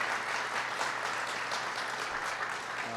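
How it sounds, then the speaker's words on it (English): Audience applause for Senator Ben Cardin of Maryland, a steady wash of clapping from a crowd that holds at an even level for a few seconds with no voices over it. "Give him a big round of applause."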